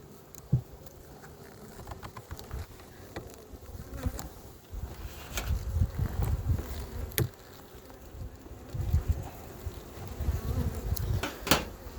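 A dense swarm of freshly emerged honey bees buzzes at an open hive, a constant low droning hum with individual bees zipping close past, steady throughout.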